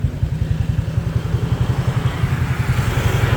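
A Bangkok moto-taxi motorbike engine runs close by with a steady low, throbbing putter and a light rattle, holding a constant idle-like rhythm throughout.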